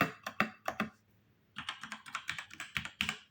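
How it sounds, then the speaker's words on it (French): Close-up clacking of a Cooler Master CK530 V2 mechanical keyboard with red switches: a few quick keystroke bursts, a short pause, then a steady run of rapid typing. "Au niveau du son des touches, je vais vous faire un essai."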